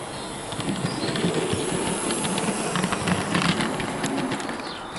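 A Hornby BR Class J36 model steam locomotive runs smoothly, giving a soft continuous whirring hum with faint rhythmic clicking of wheels on track, fairly quiet and alone without talk.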